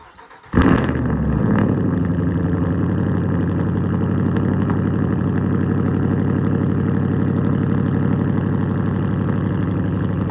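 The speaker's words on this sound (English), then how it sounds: "Let's go ahead and start this Ram up, get a little cold start." A Ram pickup truck engine cranks and fires on a cold start, then settles into a steady, loud, continuous idle with no talking over it.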